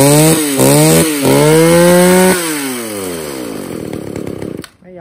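A Stihl 015 chainsaw runs loud and close, its engine revving up and down in several surges before settling and cutting off at the end.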